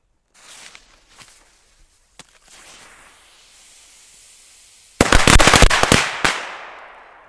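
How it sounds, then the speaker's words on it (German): A multi-shot firecracker (Multisalut) goes off outdoors in a loud rapid volley of sharp cracks lasting about a second, followed by a fading echo, after a few quieter handling sounds and faint footsteps. "weiter geht es hier mit dem Multisalut"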